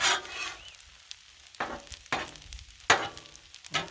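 Sausage frying on a Blackstone griddle gives a soft sizzle beneath several sharp, close scraping strokes of a spatula stirring at uneven intervals, with no voices.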